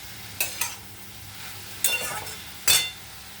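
Food frying in a pan and being stirred, with a low continuous sizzle broken by a few sharp scraping strokes of the spatula at close range; no one speaks.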